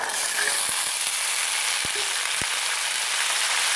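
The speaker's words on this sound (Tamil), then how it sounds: "நம்ம இப்போ இந்த பருப்பை போட்டுடலாம்." Lentils tipped into a pan of softened onions fry with a steady broadband sizzle, broken by a few sharp clicks of a spoon or utensil against the pan; no one speaks.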